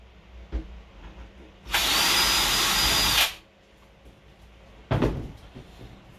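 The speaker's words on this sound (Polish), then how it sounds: "Bierzemy wiertarkę," Power drill boring holes while a camping trailer is being built: one steady loud whine lasting about a second and a half, then a short burst of drilling later, with faint knocks between.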